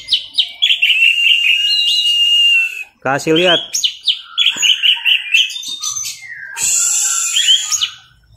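An orange-headed thrush (anis merah) sings loudly and close, pouring out varied whistled phrases, rapid trills and chirps in quick succession, with a short spoken word in between.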